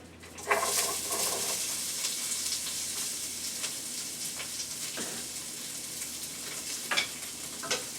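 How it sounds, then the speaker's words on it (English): Bok choy stir-frying in hot oil in a pan, a continuous crackling sizzle broken by scraping stirs and a few louder clatters, near and without voices. "Give it a little bit of a stir to get it friendly with the oil."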